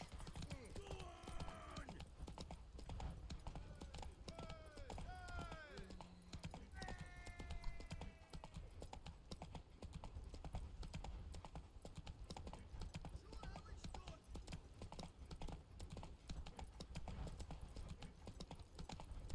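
Rhythmic clip-clop of horse hooves running steadily in the video game The Witcher 3: Wild Hunt, with a whinny early on and faint game effects in the background.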